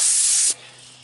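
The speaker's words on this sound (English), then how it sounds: "you just use brake cleaner" Brake cleaner aerosol sprayed onto reused brake shoes during drive axle seal work on a 1997 big truck gives a loud, steady hiss for about half a second, then cuts off abruptly.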